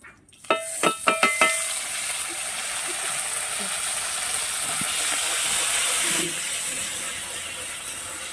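A ground paste of cumin, ginger, green chilli and radhuni hits hot oil in a pan and sizzles into a loud, steady hiss after a few sharp clatters at the start, with a voice briefly audible.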